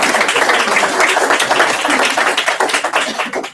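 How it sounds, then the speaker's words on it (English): Dense applause from an audience at a Galway event, steady broadband clapping throughout, loud and close, filling the whole stretch without pause. "I think he deserves a round of applause."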